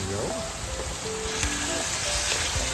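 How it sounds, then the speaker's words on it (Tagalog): A dense, constant hiss of heavy rain drumming on a roof fills the background, with faint tonal sounds scattered through it. "maingay yung aming bubong at malakas ang ulan"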